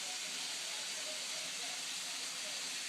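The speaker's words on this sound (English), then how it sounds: "I'm going to go ahead and add some of my onions to start cooking them off with the potatoes that I put in here" Onions sizzling with potatoes in a hot pan, giving a steady, fairly quiet hiss without pauses or talk.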